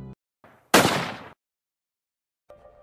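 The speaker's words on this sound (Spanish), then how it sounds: "en eso se escucha un disparo" A single loud, close gunshot blast with a long broadband crack and decay, set in a creepy Squid Game–style cookie challenge story, with brief faint sounds before and after.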